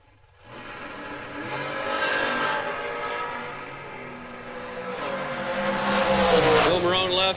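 Dragsters launch down the strip at a drag racing event, a loud engine roar rising quickly and holding, swelling again toward the end, with an announcer talking over it.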